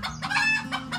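A miniature hen clucks in short, close bursts, a quick run of three or four calls over about a second.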